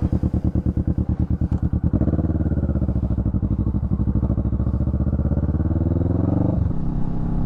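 A motorcycle engine heard through a helmet-mounted lapel mic on a GoPro Hero 10, first idling with a pulsing rhythm, then pulling away and holding a steady, loud, close drone as the bike rides along.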